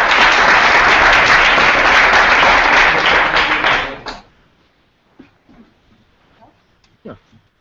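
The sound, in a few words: audience applause for the demo team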